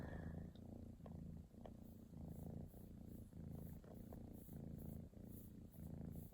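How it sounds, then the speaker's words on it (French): A pet cat purring up close, a steady rumbling purr in regular pulses of breathing in and out, quiet and continuous with no talk. "Voilà, c'était mon chat."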